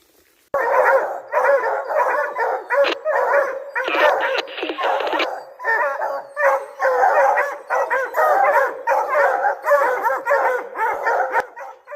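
Hunting hounds bay steadily at a small treed bear in Virginia woods, a chorus of overlapping barks, howls and yips rising continuously and loud nearby for the whole stretch.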